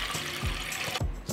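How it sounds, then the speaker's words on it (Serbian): Two liters of water poured into a cooking pot in a home kitchen, a steady splashing, gurgling stream, moderately quiet and continuous. "U jednu šerpu sipat ću 2 litre vode."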